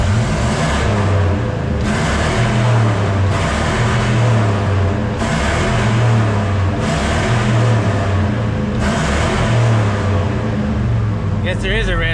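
A Ford 5.4 pickup truck engine revs hard to its cut-out at about 4,500 rpm, climbing and falling back in about five loud, steady cycles, close up and alone.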